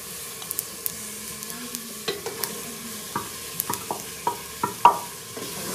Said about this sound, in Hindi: मसाले को जो है तड़का लग रहा है।